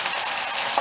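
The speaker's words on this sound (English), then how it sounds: "Then I'll turn it on the other side and try to get all sides seared." Pork shoulder searing in a hot pan gives a steady, bright, even sizzle that stays loud and close with no talking.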